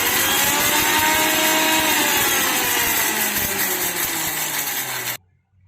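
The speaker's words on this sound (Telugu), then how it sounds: "ఫస్ట్ వీటిని మిక్సీ పట్టుకోవాలి" Kitchen mixer grinder whirring loudly and steadily as it grinds roasted urad dal, cumin, coriander seeds and black pepper, with a rattling churn of the spices and a slight drop in pitch before it cuts off abruptly.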